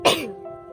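A single short, sharp sneeze bursts out close and loud, then fades into a faint tonal tail with quiet background.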